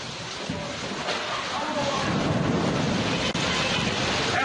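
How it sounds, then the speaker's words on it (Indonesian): Heavy rain with a storm lashes down in Bandung, a dense, steady hiss of rainfall mixed with gusty wind rumble, continuous and moderately loud. "Inilah suasana hujan besar yang disertai badai."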